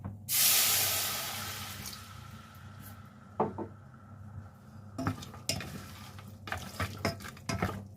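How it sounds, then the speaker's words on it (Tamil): Jaggery dissolved in water heats in a pan on the stove, with a soft hiss, then scattered clinks and scrapes of a spoon stirring against the metal pan. "இப்போ வெல்லம் கொதிச்சு வந்துடுது."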